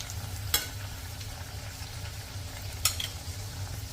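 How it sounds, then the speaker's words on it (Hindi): Besan tikki fry in a pan over a low flame with a soft, steady sizzle, broken twice by brief scraping clinks as they are turned. "इन्हें लो फ्लेम पे फ्राई करना है"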